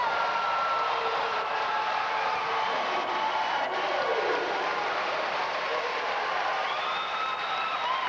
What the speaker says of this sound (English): Oh, and the crowd erupts with joy.